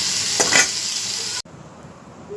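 Potatoes fry in a pan for a goat liver curry, a dense, loud, close sizzle that cuts off abruptly into near silence.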